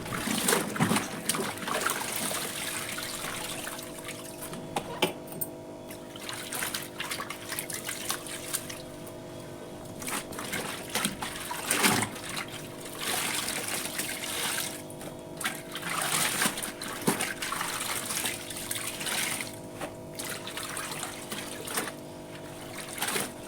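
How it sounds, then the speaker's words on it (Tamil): Water sloshes and drips steadily as clothes are rinsed in the tub of a semi-automatic washing machine, a continuous close churning with occasional splashes and no one talking. "நான் எப்போதும் இப்படி தாங்க மிஷின்லேயே நான் துணி அலசிடுவேன்"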